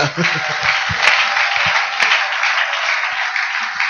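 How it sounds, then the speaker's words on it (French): A church congregation applauds at a Christian deliverance service, steady broadband clapping filling the whole stretch with a few louder claps, while low voices and murmurs sound underneath. "Applaudissons fort le Seigneur."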